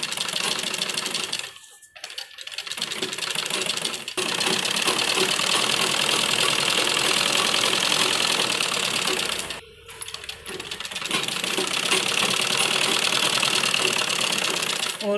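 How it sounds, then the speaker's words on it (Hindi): A sewing machine runs in long steady bursts, stitching along the edge of buckram for a school uniform round collar, with a couple of brief pauses between runs; no speech. "यहाँ किनारे किनारे बिल्कुल हमें बुकरम के किनारे किनारे पर सिलाई लगानी है"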